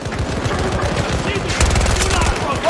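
Rapid automatic gunfire in Battlefield 2042, a dense stream of close, loud shots that keeps going throughout with hardly a pause.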